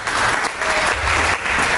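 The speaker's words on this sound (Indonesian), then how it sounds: "Beri tepuk tangan lagi" A church congregation applauds during worship, a short burst of dense, steady clapping that fills the room.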